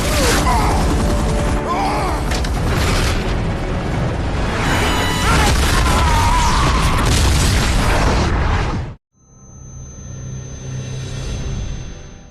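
A loud, dense burst of film explosion blasts and crashing debris fills the scene for several seconds, then cuts off abruptly, leaving a quieter rumbling aftermath.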